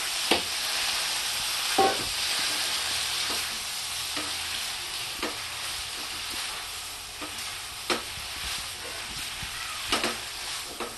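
Young jackfruit curry stir-frying in a pan, a steady sizzle with repeated scraping strokes of a spoon at irregular intervals, close and alone.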